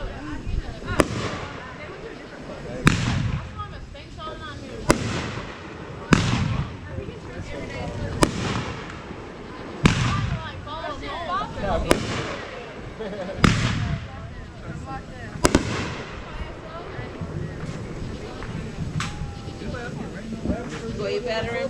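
July 4th fireworks bursting outdoors, a series of loud booming explosions every couple of seconds with crackling tails, while people talk and exclaim throughout.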